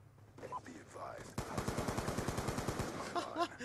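A rapid burst of automatic gunfire in Call of Duty Black Ops 2, about twenty evenly spaced shots in a steady rhythm, preceded and followed by brief voices.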